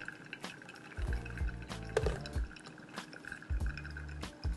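Water poured in slow spirals trickling through a coffee filter in a pour-over brewer, with soft drips and liquid patter plus a few light clinks of glassware, close and quiet with no talking.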